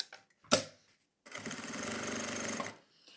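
A sewing machine stitches a seam through layered fabric on a zippered pouch: a short clatter, a pause, then a steady, close, continuous mechanical whir lasting over a second.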